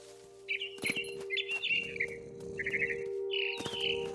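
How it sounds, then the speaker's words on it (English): Barn swallow chirping in the video game What Remains of Edith Finch: several short bright chirps and trills in quick irregular bursts over a steady low game hum, with soft thumps between calls. "I heard chirping outside my window. It was a barn swallow going back to her nest."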